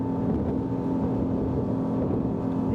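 Iron Boats 827 motorboat running at 45 knots with its hull lifting from the water, a steady loud engine drone mixed with rushing water and wind buffeting, close and continuous.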